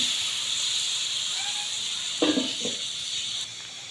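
Pangas fish pieces dropped into hot oil in a pan give a loud, steady, close hiss of sizzling, with brief sharper bursts and crackles as the pieces land.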